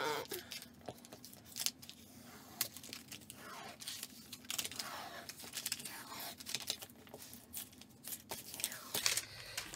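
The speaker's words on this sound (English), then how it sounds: "So first we need to peel off the backing." Adhesive backing is peeled from a slip-stop sandpaper tape for an adjustable quilt strip ruler, with quiet crinkling, tearing and plastic rustles in irregular bursts up close.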